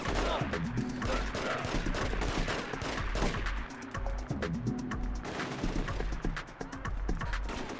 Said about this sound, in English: there's a bunch of guys shooting me right now